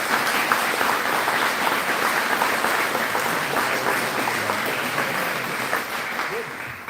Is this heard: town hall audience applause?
yes